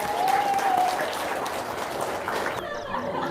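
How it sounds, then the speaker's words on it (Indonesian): A studio audience claps on cue in a steady burst that fades after about two and a half seconds, with a brief tonal whine at the start. "tepuk tangan dong"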